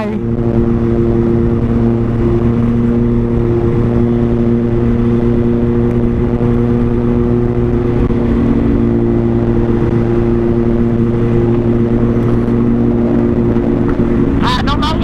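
An Aprilia RSV4 motorcycle engine droning steadily while riding, with strong constant tones and a loud even level throughout, under someone talking in Thai.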